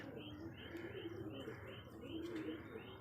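Domestic pigeons being let out from a home loft coo close by: soft, repeated low coos mixed with a few chirps, with no talk over them.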